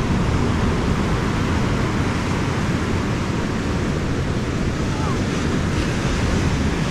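Stormy sea waves break continuously on a Crimean beach, a dense, loud surf roar mixed with gusting wind buffeting the microphone, with no clear voices.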